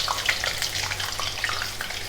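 Potato slices for crispy homemade chips sizzle and crackle steadily in hot oil, a dense continuous frying hiss with small pops throughout.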